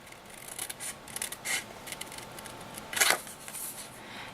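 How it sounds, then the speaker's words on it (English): Scissors cut out a traced paper piece for a flag opening on a craft tag, making close, soft snipping and rustling sounds in an irregular rhythm with one sharper cut near the end. "And I'm just going to cut this out again."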